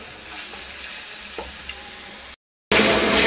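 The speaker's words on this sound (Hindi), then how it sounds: "ये हम इसको फ्राई करेंगे, फ्राई करके निकाल लेंगे" Chicken for a jalfrezi sizzles loudly in hot oil, a dense continuous hiss with faint stirring knocks, briefly cutting to silence before the frying returns even louder.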